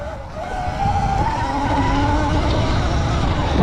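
A Sur-Ron electric pit bike rides on a dirt track, giving a steady close whine that rises and falls in pitch with throttle over continuous tire and wind noise.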